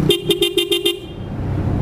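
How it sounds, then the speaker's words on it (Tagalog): A stock Toyota Innova car horn fitted to a Honda Beat FI scooter honks in six short, loud, rhythmic blasts, then cuts off into background noise. "ngayon binalik ko na siya sa Innova horn, stock ng Toyota Innova na busina"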